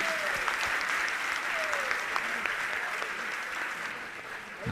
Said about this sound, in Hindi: जोरदार ताली बजावे इन सभी पदाधिकारियों के लिए